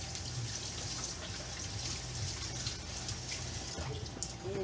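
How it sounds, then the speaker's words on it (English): Fingers rinsed under a running kitchen tap while cooking chicken and dumplings, a soft steady splash of water close by, quiet and continuous with no talk. "let me rinse my fingers here"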